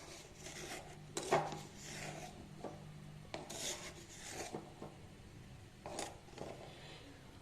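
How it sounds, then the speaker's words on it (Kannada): Coconut being finely ground with salt in a kitchen grinder, a faint rasping and scraping that comes in uneven strokes, with occasional sharper clinks and rubs. "ಕಾಯಿನ ಸ್ವಲ್ಪ ನುಣ್ಣಗೆ ರುಬ್ಕೊಬೇಕು"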